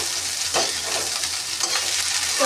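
Finely chopped cabbage and green onion stir-fry in a hot pan for veg chowmein, a close, steady sizzle broken by the scrape of stirring.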